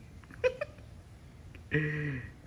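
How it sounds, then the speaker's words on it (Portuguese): A kitten meows a few short times nearby, then lets out a longer, louder drawn-out meow toward the end, with no talking over it. "Começou a miar."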